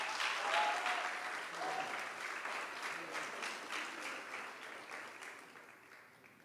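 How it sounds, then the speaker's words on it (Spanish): An audience at a results presentation event applauds in a steady wash of clapping that gradually fades, fairly distant and soft. "Un fuerte aplauso."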